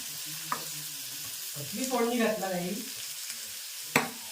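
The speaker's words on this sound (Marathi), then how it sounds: "घातली फोडणी मस्त" A spice tempering sizzles in hot oil, a close frying crackle that swells for a moment in the middle and then settles back, with a couple of sharp clicks of utensils.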